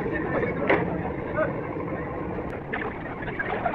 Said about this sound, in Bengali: ছেড়ে গেল ধুলিয়া লঞ্চ ঘাট থেকে শ্রীনগর 8